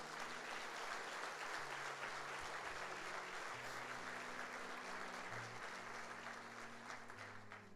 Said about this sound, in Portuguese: Vamos aplaudir os 12 de Jesus?